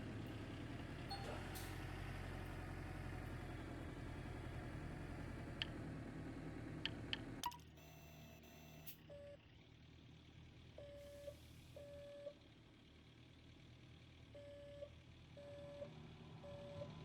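A dump truck and excavator in Gold Mining Simulator rumble with heavy engine drone that drops away midway, leaving a quieter idle under repeated evenly spaced reversing beeps.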